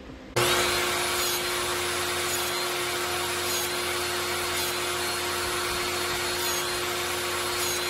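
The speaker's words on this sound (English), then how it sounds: "So I have the wedgie sled set for 24 segments" A saw runs with a steady, loud whirring drone while cutting a 3/8 inch board into segments on a wedgie sled, with faint periodic bursts as each segment is cut.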